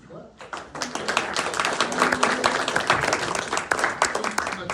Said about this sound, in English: another round of applause for others